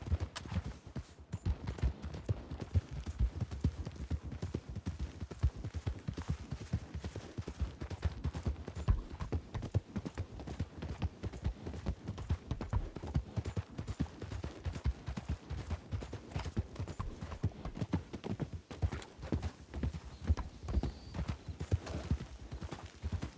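Horse hooves clip-clopping in the video game RedM, a steady rapid trot of hoofbeats at moderate distance that continues throughout, with occasional faint distant noises.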